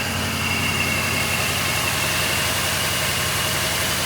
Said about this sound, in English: let's take a listen to the engine